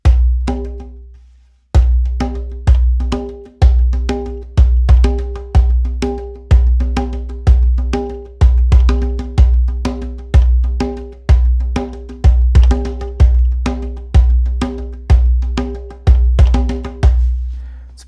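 Hand drums play a steady triplet-feel bass pattern with accented open tones on the 2s and 4s, regular strong strikes ringing out one after another, close and loud with no voices.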